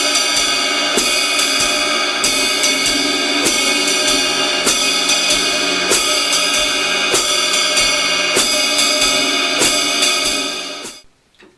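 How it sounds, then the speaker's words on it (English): Jazz drum beat played steadily: swinging ride-cymbal pattern with hi-hat accents on beats two and four, loud and close, repeating evenly for about ten seconds before stopping abruptly, with no talking. "So the next building block of jazz drumming is the jazz beat."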